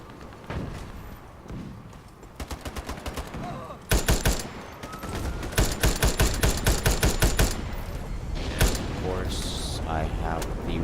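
Gunfire from the online shooter Ironsight comes as rapid bursts of repeated shots, first lighter volleys, then a louder sustained string of heavy reports, with some game sounds near the end.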